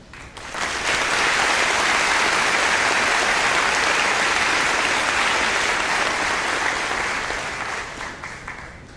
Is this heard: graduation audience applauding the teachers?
yes